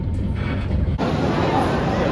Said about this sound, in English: Busy station.